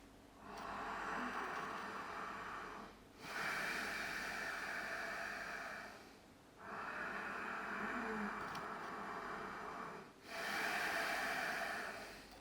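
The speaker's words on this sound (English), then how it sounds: "The Ujahi breath is a special type of breathing that you have to do throughout the whole practice." Ujjayi yoga breathing through a slightly tensed throat, four long hissing breaths alternating inhale and exhale, each lasting about three seconds, close and clear with no talking.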